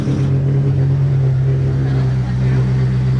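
The engine of a wrecked Volkswagen cranks and runs with a steady loud droning hum, and the AC clutch engages; voices talk over the engine throughout.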